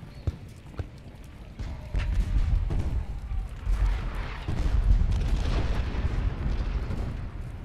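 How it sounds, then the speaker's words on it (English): Cannon and artillery fire from a Gettysburg battle in Ultimate General rumbles as a continuous distant barrage, with booms layered over clattering hoofbeats and battle noise, loud and dense throughout. "Our artillery should be pummeling their morale."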